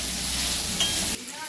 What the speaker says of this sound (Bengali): এবারে আলুগুলো খানিকক্ষণ ভেজে নিতে হবে।